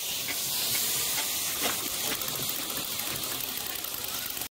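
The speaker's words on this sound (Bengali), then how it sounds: "এবার দিয়ে দেবো সবজিগুলো যেগুলো ভেজে রেখেছিলাম" Fried vegetables added to a sizzling potato and fish curry in a pan; a loud, continuous hiss and steamy sizzle throughout, with no speech.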